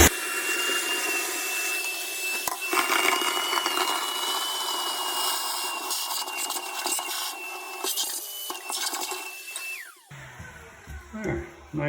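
A shop vac sucks standing water out of a filterless canister, its steady high whine running loud and continuous for about ten seconds before cutting off and winding down, followed by brief clatter.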